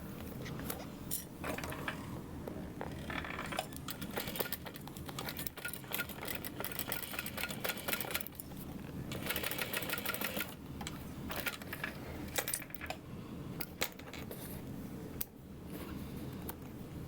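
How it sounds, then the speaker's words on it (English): A sewing machine stitches a fabric bag with a steady, close mechanical whirring and clatter that continues throughout, without any talking. "I'm just gonna sew it from this direction this time"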